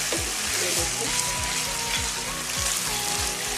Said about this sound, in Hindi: अब मैं इसे ऐसे ही फ्राई करूँगी इसी तरह